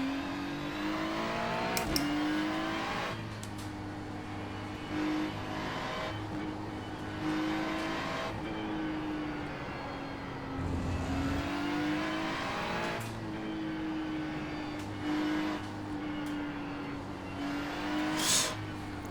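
Ferrari 296 race car engine in the iRacing sim, a steady droning tone that rises and falls across the lap, with a sharper burst near the end and no talk.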